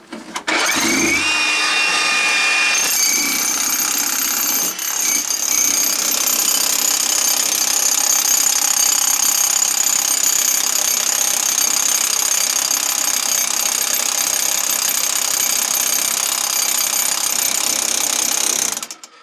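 A demolition hammer fitted with a bunker buster point chisels into hard quartz, giving a loud, continuous, close-up hammering roar that starts abruptly and runs almost without a break.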